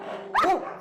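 A rescued pit bull taken from an illegal dog-fighting ring barks once, sharp and close, at an animal institute in Ribeirão Pires, São Paulo, with a low whine before it.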